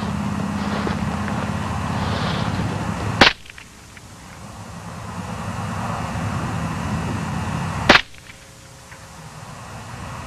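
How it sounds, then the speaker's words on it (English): Two sharp, loud gunshots ring out about five seconds apart at a Barbie doll target, each a brief crack standing out over a steady low background rumble. "Keep firing until you hit her right in the chest."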